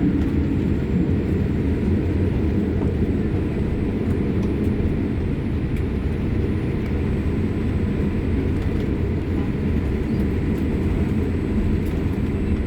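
An Air India Boeing 787 Dreamliner on its takeoff roll from Lucknow gives a steady, loud, low engine roar heard from inside the cabin, constant for the whole stretch with no talking.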